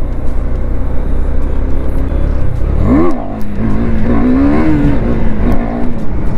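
A KTM Duke 390 motorcycle engine roars loudly close by during a wheelie attempt, a steady growl that swells into a rising rev, dips, then climbs again with wind buffeting throughout.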